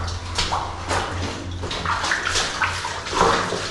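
Feet wading ankle-deep through water in an old 1800s gold and crystal mine, with steady splashing and sloshing steps heard up close in a resonant space.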